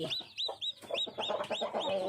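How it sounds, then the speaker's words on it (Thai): Newly hatched black chicken chicks, still wet from the egg, peep in quick, repeated high chirps with a few lower clucking sounds mixed in, close and fairly steady throughout. "อันนี้เรามาดูลูกไก่ดำออกแล้วนะคะ นี่กำลังออกใหม่ๆเลย"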